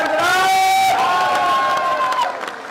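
Crowd cheering and shouting rises at a political rally held in a grain market in Haryana, a dense roar of many voices with whoops that swells loudly and then slowly tapers over a few seconds.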